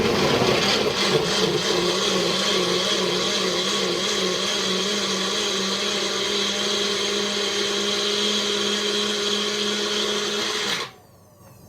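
A compact bullet blender roars continuously at close range while blending marinara sauce, its motor whine wavering slightly as contents churn, then cuts off abruptly at the very end.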